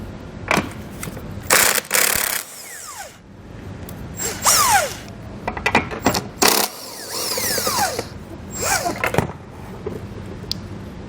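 Power tool bursts loosen the 15mm nuts on the hitch mounting plate of a 2018 Tesla Model 3, giving several short, loud whirring runs separated by pauses, with clicks and metallic handling in between.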